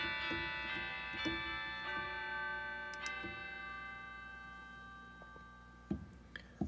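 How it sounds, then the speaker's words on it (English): The chimes voice on an MDS-45 organ, produced from the 16-foot Gemshorn stop, rings out in a series of struck bell-like notes with long, ringing decays, several strokes spaced irregularly, played alone and fairly soft. "The 16-foot Gemshorn becomes a set of chimes."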